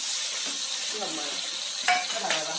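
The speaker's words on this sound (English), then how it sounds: "I'm cooking fried corn" Corn sizzles steadily in a hot pan during stir-frying for a vegetarian dish, a continuous bright hiss broken by a few soft stirring scrapes and clinks.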